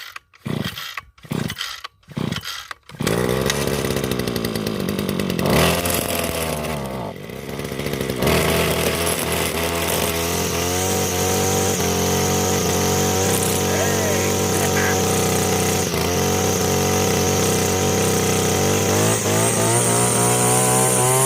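A Radley weed eater's small two-stroke engine is yanked a few times with short sputtering bursts, then catches and settles into a steady, loud, close idle that runs on alone.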